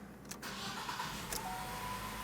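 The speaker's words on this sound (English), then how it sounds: "Let's turn on the car at this point." A 2012-2020 Ford Focus engine cranks and catches, then settles into a steady idle hum, heard up close with no talking.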